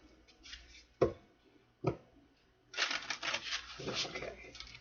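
Tarot cards shuffled by hand at a reading, a few crisp riffling bursts with pauses between, then a longer steady shuffle, close and fairly quiet.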